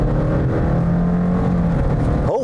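A 2017 Subaru Forester with a CVT under full-throttle acceleration, the engine droning loud and steady at a sustained pitch that climbs only slightly, with no gear shifts.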